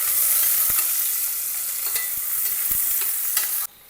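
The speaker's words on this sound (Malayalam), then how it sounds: "ഇനി ആ സെയിം ഓയിലേക്ക് തന്നെ സവാള വറുത്തെടുക്കാൻ പോവാണ്." Sliced onions frying in reused hot oil for cooker biryani, a steady loud sizzle with brief clinks of stirring, cutting off abruptly near the end.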